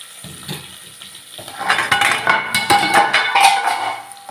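Sliced potatoes are tipped into a pan for a Kerala-style potato stir-fry, giving a clattering rattle followed by loud sizzling frying, with scraping and knocks of utensils against the metal pan up close.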